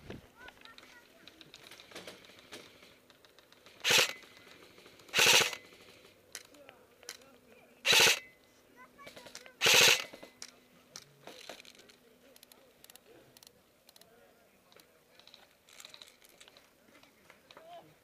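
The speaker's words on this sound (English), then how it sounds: "Get down, Chandler, they're shooting at us." Gunfire in a trench warfare video game: four sharp, spaced shots over a low background with faint ticking and occasional voices.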